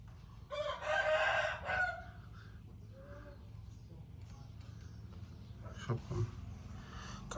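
A rooster crows once, loud and fairly close, heard near a fighting-fish stall, followed by faint farmyard clucking under low background noise and brief rustling.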